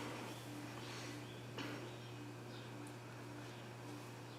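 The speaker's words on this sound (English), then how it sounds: "you can tell that noise is not coming from the motor, it's coming from the light kit" Low steady hum from a 42-inch Hunter low-profile ceiling fan, coming from its light kit with loose screws vibrating, quiet and constant with a faint higher whine above it.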